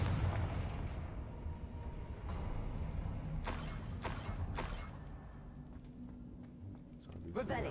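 A fire spell called Confringo explodes in a fantasy wizarding video game, with a loud booming blast and a few sharp bursts that fade into a rumbling tail.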